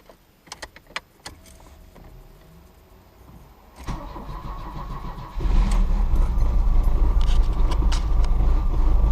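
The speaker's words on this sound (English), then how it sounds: "That engine's not too happy." A Pontiac Fiero is started after quiet clicks and rattles, the starter whirring before the engine catches and settles into a loud, uneven, rough-running idle close by.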